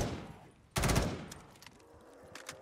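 Gunfire in a Black Ops 3 custom zombies map, Uncharted Pathogen, with realistic recoil: a loud, close burst of rapid shots, followed by scattered quieter shots and clatter.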